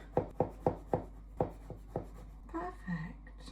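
A small sharp knife trims the edges off a homemade first-birthday cake, about eight crisp, close cutting taps in uneven rhythm, followed by a quiet voice.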